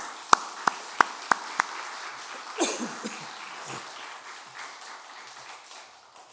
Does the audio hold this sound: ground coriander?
no